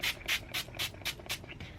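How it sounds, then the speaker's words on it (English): Stiffen Quick fabric stiffener sprayed onto a boutique-style hair bow: six or seven quick, close pump-spray hisses in a steady rhythm, with no talking. "I'm going to use my Stiffen Quick, and I'm going to spray my bow."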